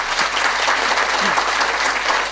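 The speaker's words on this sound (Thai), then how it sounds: "ขึ้นปรบมือให้คุณหมอดัง" An audience in a hall claps steadily and densely for a speaker throughout, as a dense even wash of applause with no talk over it.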